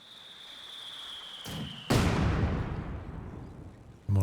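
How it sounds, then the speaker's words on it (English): Mortar barrage in Company of Heroes 2: a sharp boom lands mid-way and its long rumbling tail fades, then a second blast strikes at the very end, over a steady hum of battle ambience with no talk. "Mortar barraging in the centre"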